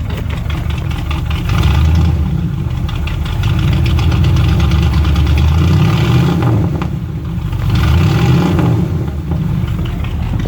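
A 1977 Ford Super Cab truck engine idles steadily just after a cold start, a loud, continuous low rumble with slight rises and dips in intensity throughout.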